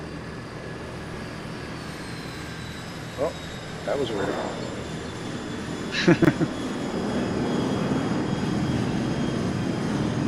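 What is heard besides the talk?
jet airliner engines and thrust reversers after landing, flight simulator game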